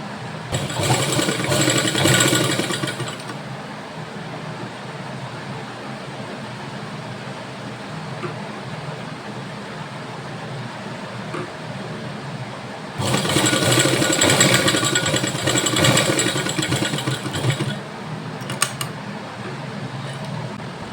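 A sewing machine stitches a size 36 cotton bra with elastic adjustable straps. Two bursts of fast, buzzing stitching stand out over a steady low mechanical hum that runs between them.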